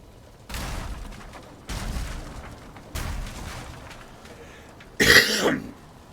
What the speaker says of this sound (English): Still got a bit of a cough left over.